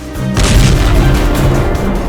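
A loud, deep boom bursts in after a brief lull, its rumble rolling on and staying heavy for the rest of the moment, in the Russia-Ukraine war.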